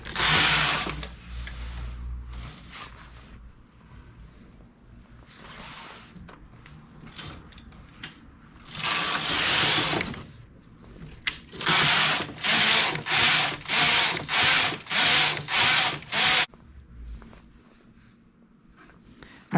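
A knitting machine carriage is pushed back and forth for colorwork, with individually selected needles. Its clattering mechanical passes run in irregular bursts at first, then as a quick regular series of rhythmic swishing rattles before falling quiet.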